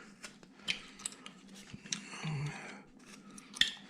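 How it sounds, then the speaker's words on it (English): A carving knife slices short cuts into a small wooden cowboy figure's face, a few faint scratchy scrapes and light clicks spaced irregularly, close and quiet with no voices. "take a knife and cut this this eye line across here"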